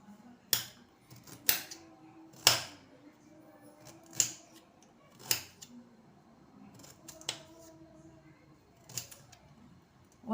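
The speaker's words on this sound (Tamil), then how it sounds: "நல்லா இஞ்சி தோல் சீவிட்டு இதை ஒரு ரஃப்பாக கட் பண்ண போகிறோம்" A knife roughly chops peeled ginger on a board, about nine sharp, crisp chops at an uneven pace, close and distinct against a quiet background.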